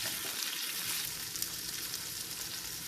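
Capsicum sizzles steadily as it stir-fries in a pan for broccoli manchurian, a continuous close hiss with no voices.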